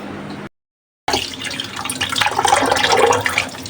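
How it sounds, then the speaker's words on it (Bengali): Water runs and splashes loudly as freshly cut small local fish are washed, briefly cut off by a moment of silence, then continuing with dense, bubbling rinsing sounds. "তো মাছগুলো কেটে কুটে সুন্দর মতন ধুয়ে নিতেছি"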